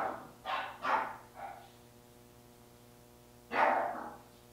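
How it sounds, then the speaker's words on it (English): A dog barks in a quick run of three or four sharp barks, falls silent, then gives one more loud bark near the end, with a faint steady hum underneath. "No barking."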